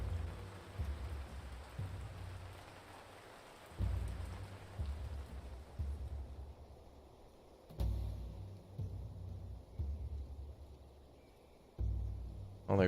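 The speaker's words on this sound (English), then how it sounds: "Oh, there goes the rain again, finally." Steady rain falls in the ancient city-building game Ancient Cities, a soft continuous patter with low rumbling swells recurring every few seconds, like distant thunder, quiet and even.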